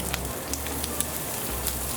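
Toast sizzling on a griddle in bacon fat, a soft steady crackle and hiss with a low hum underneath, close and constant over a brief moment.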